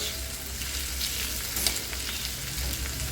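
Bitter gourd with onion and chopped green chillies fries on a tava, giving a steady, close, dense sizzle throughout.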